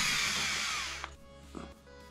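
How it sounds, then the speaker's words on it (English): A power drill bores a hole while building a lithium power box, a high whine that runs for about a second and then winds down, followed by a few faint clicks in near quiet. "And I'll drill that."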